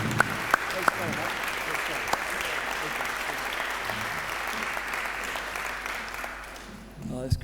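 Audience applause at a live show, a dense, sustained round of clapping from a crowd with a few sharp near claps at the start, slowly fading near the end as a voice comes in.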